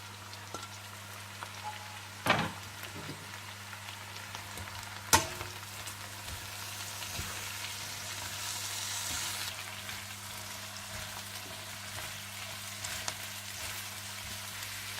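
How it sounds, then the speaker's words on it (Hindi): Capsicum, carrot, cabbage and green onion stir-fry for chicken chow mein, a faint continuous sizzle with a couple of sharp utensil clinks against the pan and soft stirring scrapes. "शिमला मिर्चें, गाजर और हरी प्याज। इसे डालकर आप अच्छी तरह से मिला लें।"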